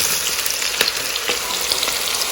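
Onion goes into roasting masala for white chicken karahi, a loud, close hiss of frying oil with a few soft stirring knocks against the pan.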